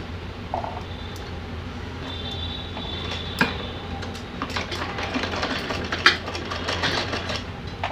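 A sewing machine stitches a small cap for a Laddu Gopal doll's dress, a close, continuous mechanical whir with light ticking and a few sharper clicks, no speech.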